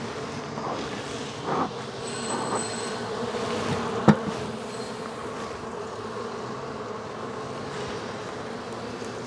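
Honey bees hum in a dense, steady buzz around crowded hives that are packed to capacity, a constant droning swarm with a brief sharp tap in the middle and no talking.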